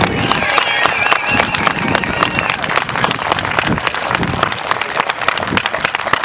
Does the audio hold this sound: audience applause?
yes